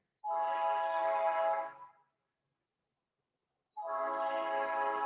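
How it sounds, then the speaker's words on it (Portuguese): A freight train hauling soybeans toward Paranaguá sounds two loud, sustained horn blasts, each lasting over a second, separated by about two seconds of silence. "Deixa passar o trem aqui que está transportando soja para Paranaguá."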